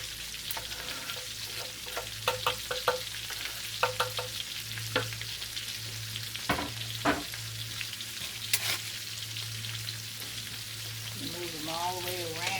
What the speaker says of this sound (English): So I'm going to add the onions into this skillet.